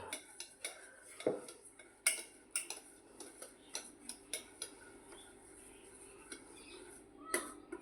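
A spoon clinks and scrapes against a bowl while stirring boondi batter, giving irregular close metallic taps and scraping throughout, with faint voice in the background.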